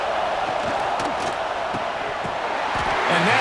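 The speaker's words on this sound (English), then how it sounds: "This defense feeling a bolt of energy from the crowd" A football stadium crowd at a Florida State at Clemson game on third down, a dense continuous roar of cheering and yelling held at steady volume throughout.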